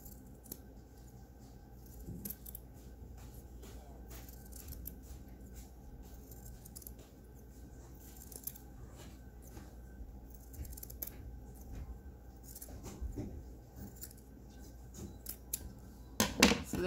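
Scissors cutting through a purple Crown Royal cloth bag, a steady series of soft snipping and crunching cuts close by, fairly quiet, ending in a few louder snips.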